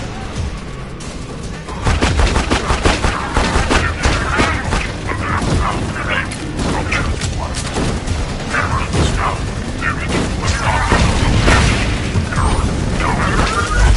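Grenade blasts and gunfire in the video game Borderlands 2: dense, loud booms and rapid shots rolling continuously, with a voice talking over the chaotic combat noise.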